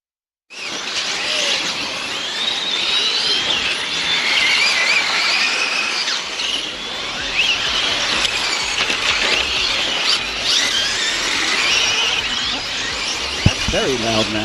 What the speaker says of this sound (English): you can see the electric motors going whiz